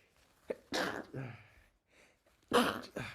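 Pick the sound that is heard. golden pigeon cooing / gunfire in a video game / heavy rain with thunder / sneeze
sneeze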